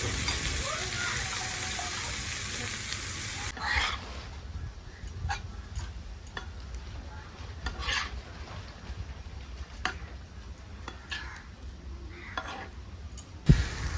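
Onions with a pinch of turmeric and chopped spring onion greens are stirred together in a pan, with steady sizzling at first and then soft, scattered scrapes and clicks of the spoon close by.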